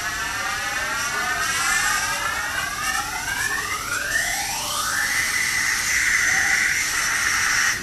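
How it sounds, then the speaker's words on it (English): A homemade vacuum gun draws air through its barrel behind a slug, producing a steady loud hiss with rising and falling whistling tones that sweep upward as the suction builds, with no talking. "you'll hear the vacuum sucking just now"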